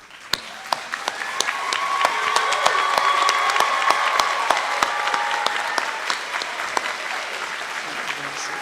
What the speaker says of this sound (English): will you please stand and join me in applauding your support group?